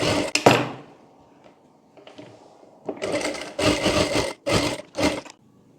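A sewing machine stitches a pleat on a katori blouse, running in short loud bursts separated by pauses and small handling knocks.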